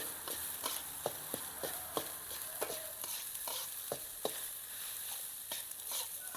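Egg fried rice sizzling in a hot wok while being stirred, with irregular scraping strokes of a spatula over a constant frying hiss.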